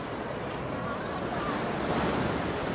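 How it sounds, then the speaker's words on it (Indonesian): Ocean surf breaks against the breakwaters at Glagah beach in Kulon Progo, Yogyakarta, a loud continuous wash of waves mixed with strong wind buffeting the microphone. "Nah, di sini ada banyak pemecah ombak."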